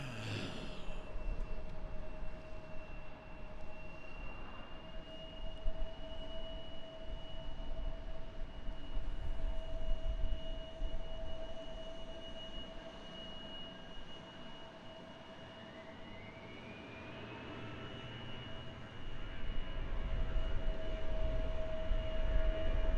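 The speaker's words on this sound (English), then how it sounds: "Old Delta A319 departing." An old Delta Airbus A319 airliner departing an airport, heard as a steady, fairly distant jet-engine roar with a sustained whine that holds and swells slightly toward the end, with no voices.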